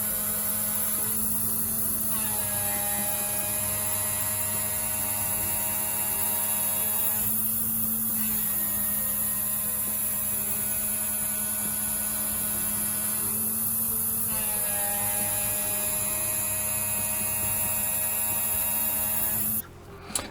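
A Haase CNC machine face milling an aluminium block with a 5 mm four-flute cutter gives a steady, high-pitched whine and hum, broken by regular passes of gritty cutting noise at a close, even level without talk.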